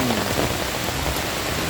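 Heavy rain pours at Estrella Falls in Palawan as a dense, continuous hiss of drops hitting surfaces, loud and close, with no voices heard.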